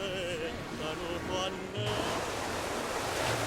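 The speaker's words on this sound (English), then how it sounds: "and here's the beach we used." Surf rolls onto the beach at San Vito lo Capo in Sicily, a continuous wash of breaking waves with wind noise on the microphone, fairly faint, while a voice talks faintly over the first part.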